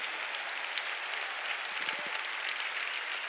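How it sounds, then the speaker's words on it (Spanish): Inside the Casa de Dios church, the congregation gives a steady round of applause for the service team, a continuous soft hiss of many hands clapping together at some distance. "Quiero que le den un aplauso a todos los que han estado sirviendo."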